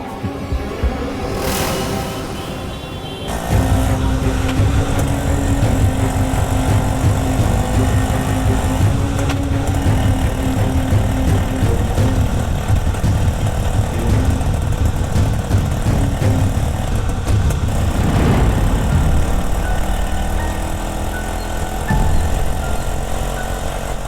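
A vehicle engine runs steadily with a loud, continuous throbbing hum that starts after a short quieter lead-in and holds without a break. No one speaks.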